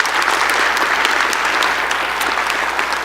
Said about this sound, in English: So a round of applause would be appreciated.